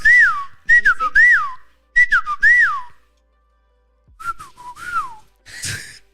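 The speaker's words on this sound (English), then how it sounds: "most people whistle with like their lips like" A person whistles short rising-and-falling phrases in two bursts, a pause, then softer, breathier notes ending in a puff of air, loud and close with no talking.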